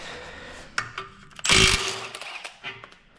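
A wrench loosening a 3/4 bolt on the steering stabilizer of a GM 10 bolt front axle: scattered metallic clicks and knocks, then a short burst of harsh grinding and rattling up close, followed by lighter taps.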